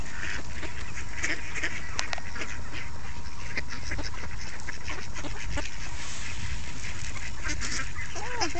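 A group of hungry ducks quacks and honks close by in busy, overlapping calls that continue without a break throughout.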